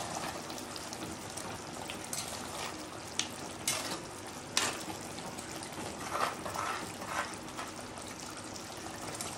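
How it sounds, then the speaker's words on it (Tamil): Dried fish curry bubbling in a clay pot after the heat is switched off, a steady close hiss of simmering liquid with occasional brighter pops and crackles throughout, no voices. "ஆஃப் பண்ணி எப்படி கொதிக்குது பாருங்க. இதுதான் மண் சட்டியோட ஸ்பெஷல்."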